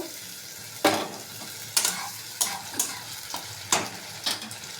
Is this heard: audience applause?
no